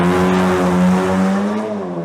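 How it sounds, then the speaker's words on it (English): An Audi R8 fitted with an aftermarket exhaust revs hard nearby, a loud sustained engine note that holds steady and then eases off slightly, with no talking. "let's have another little exhaust test."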